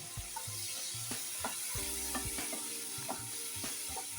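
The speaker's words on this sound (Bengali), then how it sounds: "যেহেতু গুঁড়া তো ফটাফট হয়ে যায় মশলাটা সাতলানো" Red chilli powder, spices and chopped tomato sautéing in a pan for a vegetarian cauliflower dish, giving a steady close sizzle with scattered pops and occasional spoon scrapes and stirs.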